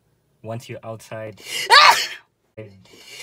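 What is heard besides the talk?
sneeze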